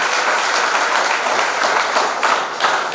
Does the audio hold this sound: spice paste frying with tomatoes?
no